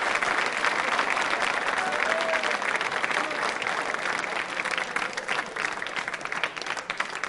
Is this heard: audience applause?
yes